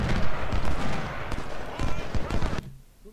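Gunfire from a Civil War battle at Gettysburg in Ultimate General: Civil War, a dense, loud rattle of overlapping musket shots and booms. It cuts off abruptly into near silence.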